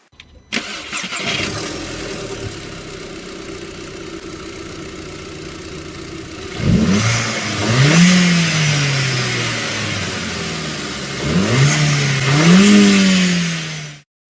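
An Audi A3 2.0 TFSI engine fitted with a Ramair air induction kit cranks and catches, idles steadily, then revs up twice with rising, throaty surges before dying away.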